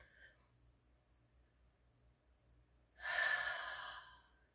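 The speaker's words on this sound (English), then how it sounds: "You're going to breathe in." A deep inhalation during yoga breathing practice sounds as a loud, breathy intake rising sharply near the end after a quiet pause, close to the microphone and with no talking.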